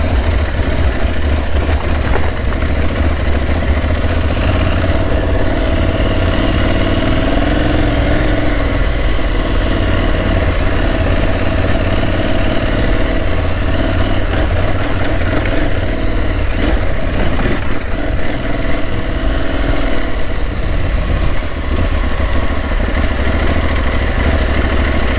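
An Aprilia Tuareg 660 motorcycle (2022) ridden off-road, its engine a loud, continuous near drone with rough rumble and slight swells throughout, no talk.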